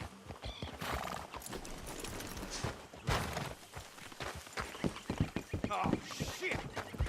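Horses in the video game Red Dead Redemption 2 clop along with hoof steps and let out loud neighs and whinnies, close by, while characters talk over them.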